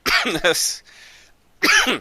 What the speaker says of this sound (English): Damn it, now I can't stop coughing